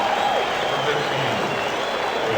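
A baseball stadium crowd on its feet applauds and cheers in a steady loud wash of clapping, with a commentator speaking over the noise.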